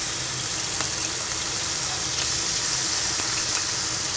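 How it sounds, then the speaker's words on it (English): Steady broadband sizzling of marinated meat frying in a pan, a continuous crackling hiss with occasional soft clicks, close and moderately loud. "So we start off by putting the meat into the pan and frying it off."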